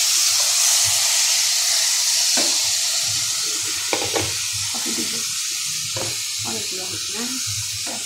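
Potatoes tossed into a pan of frying beef filling for singara and stirred, giving a steady sizzling hiss with scattered scraping stirs and a voice speaking briefly over it.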